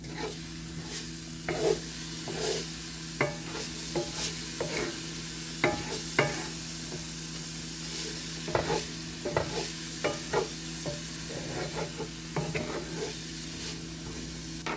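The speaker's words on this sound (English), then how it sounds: "you just want to cook the vegetables until they're a little bit caramelized and completely soft" Vegetables sauté in a large skillet of rice with hot peppers, a constant hiss of frying punctuated by frequent sharp scrapes and knocks of a spoon against the pan, irregular and close.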